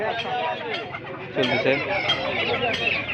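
Several chickens cluck and squawk close by at a market amid a busy background of people talking.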